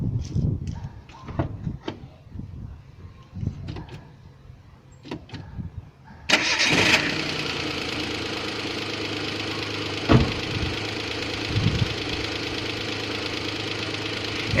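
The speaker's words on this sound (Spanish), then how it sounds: "Vamos a encender el vehículo." A car engine cranks and catches during an oxygen sensor and engine computer test, then settles into a steady, fairly loud idle that continues to the end after a few earlier clicks and handling noises.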